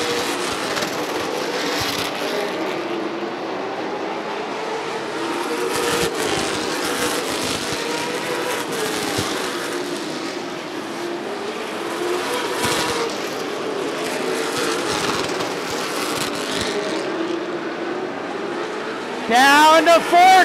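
Big 8 late model race cars roar around Rockford Speedway in a sustained, loud engine drone that swells and fades as cars pass, with a commentator talking over the noise.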